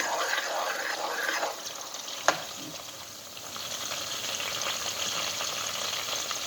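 A pot of tomato stew with onions sizzles and bubbles with a steady hiss, broken by a sharp clink partway through, while a voice speaks faintly in the background.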